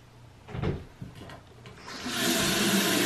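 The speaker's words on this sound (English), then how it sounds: "I'm just washing my face with like hot water" Hot water runs from a tap while someone washes their face, starting with a few soft bumps and handling noises before a steady, close rush of water builds and continues to the end.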